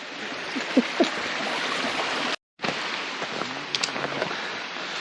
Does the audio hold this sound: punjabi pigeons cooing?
no